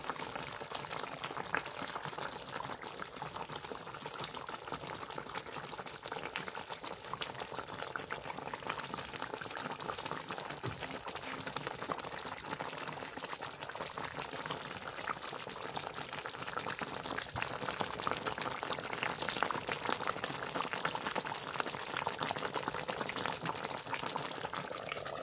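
Pomfret fish curry bubbles in a pot on a village stove, a soft, continuous simmering burble with tiny pops throughout, fairly faint and steady, with no talking.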